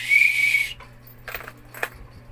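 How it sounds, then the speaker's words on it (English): A tour guide blows a loud, steady whistle blast lasting under a second to gather tourists on a city tour in Cebu, followed by quieter shuffling and faint background sounds. "I will whistle to gather you to proceed the next destination"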